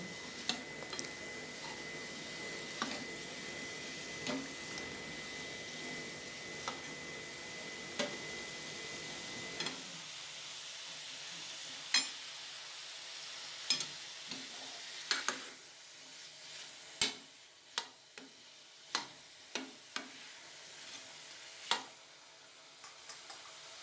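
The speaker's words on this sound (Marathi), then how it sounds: "चांगला हलवून घेऊ." Salt-boiled cauliflower gets stirred through sizzling masala in a home kitchen pan, a steady fry hiss for the first half giving way to sharp, irregular spoon clicks and taps against the pan.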